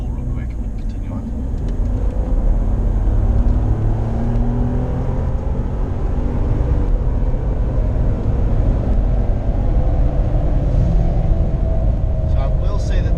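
Ford F-150 pickup truck engine pulling hard under acceleration, a steady rising drone heard from inside the cab, loud and continuous with road and wind noise.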